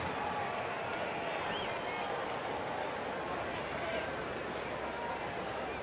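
A baseball stadium crowd on a mild evening makes a steady, dense murmur that fills the whole stretch at an even level, with a commentator's voice running over it.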